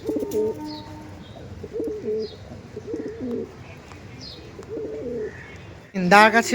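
Giribaj high-flying pigeons cooing nearby in a series of short throaty bursts, with faint chirps, before a voice cuts in at the end.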